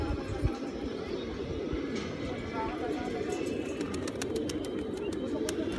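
Soft pigeon cooing beneath continuous talking and rumbling background noise, with a few faint higher chirps toward the end.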